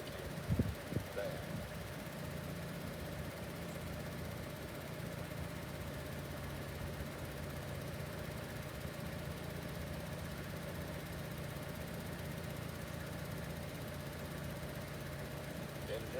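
A Chevy Cruze engine idles with a steady, faint, low hum and no change in rhythm, and no one speaks.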